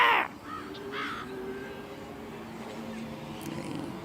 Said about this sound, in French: Ah, le corbeau, là, t'as entendu?